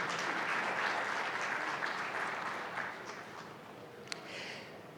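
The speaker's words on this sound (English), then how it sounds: "I think I deserve a round of applause" An audience applauding during a session on sustainable rural electrification in Nigeria, a dense continuous clapping that holds steady, then eases slightly toward the end.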